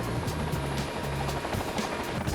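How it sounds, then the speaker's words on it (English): A helicopter practises a running landing with a simulated tail rotor failure, its steady rotor and engine drone loud and continuous throughout with a rhythmic blade chop, no voices. "the pilots have to practice a technique that allows them to land an aircraft with a failed tail rotor"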